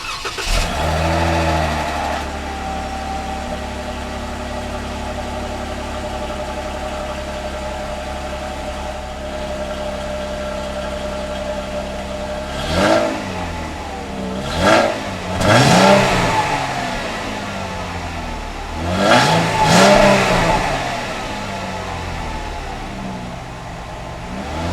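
A Jeep Wrangler Unlimited's 3.6-liter Pentastar V6 idles steadily, then revs sharply three times in quick successive bursts, rising and falling, heard close and loud with no talking.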